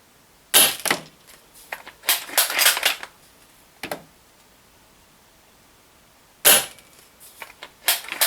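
A WinGun Mosin Nagant CO2 airsoft sniper rifle fires 0.3 gram BBs at a 15-metre range, sharp close cracks followed by clattering bolt and mechanism clicks, in bursts separated by quiet pauses.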